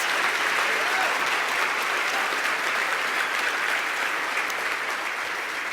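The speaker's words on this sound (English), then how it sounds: "let's give a round of applause to our student leaders" A crowd applauds steadily, dense clapping filling the whole stretch at an even, fairly loud level.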